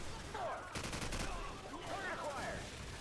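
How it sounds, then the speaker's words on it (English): Rapid automatic gunfire in Call of Duty 4 on Xbox 360 rattles in sustained bursts, a dense close fusillade filling the scene with battlefield noise and no talking. "these dudes are just shooting at our own tanks and running in front of my gunfire"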